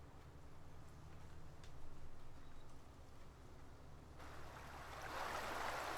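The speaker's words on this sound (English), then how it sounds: "Oh, I heard the water." Water flowing in Farming Simulator 19 on the Red Dirt County map, a steady broadband rush that swells louder and brighter toward the end, with a low engine-like hum beneath.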